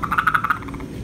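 Frogs freshly scooped out of a pool croak in a quick run of about six pulsing, throaty calls close by, then fall quiet over soft background noise, with no voices.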